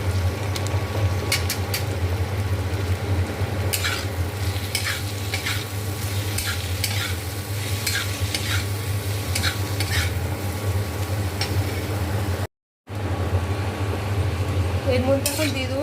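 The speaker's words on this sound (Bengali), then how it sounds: "পরিমাণ মতো নুন আর একটু হলুদ দিয়ে ভেজে নেব।" Potatoes frying in a pan with salt and turmeric, a steady sizzle with repeated scraping stirs, heard up close with a brief silent gap near the end.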